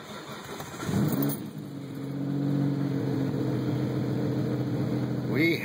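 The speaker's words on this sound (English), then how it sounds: "We have a running car." A 1992 Dodge Stealth R/T cranks and fires up, the engine catching after a short whir and settling into a steady close idle with a slight rev, under a faint voice.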